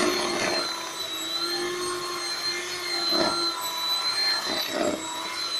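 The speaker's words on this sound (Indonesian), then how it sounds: "selanjutnya kita mixer atau kita kocok terlebih dahulu" An electric mixer beats kue ketawa dough in a steady, constant whine that runs the whole length, with faint scraping pulses from the beaters in the bowl.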